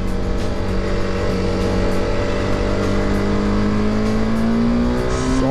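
A TVS Apache RR310 motorcycle pulls hard in third gear, its engine note climbing steadily in pitch as it accelerates, loud and continuous with wind rush throughout.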